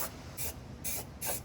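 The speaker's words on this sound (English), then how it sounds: "So I ended up going crazy with the spray can." A spray paint can hisses in three or four short, even bursts over a car's engine bay, each a breathy spray with brief pauses between.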